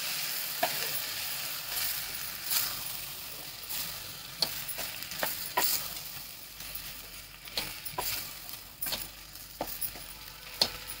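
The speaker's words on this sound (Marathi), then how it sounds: "आता याच्यात ना तांदूळ ॲड करते। ते पण हलवून घेते चांगलं।" Rice is stirred and sautéed in a pan with vegetables for veg pulao: a soft, steady sizzle under frequent spatula scrapes and clacks against the pan, irregular and close, with no speech.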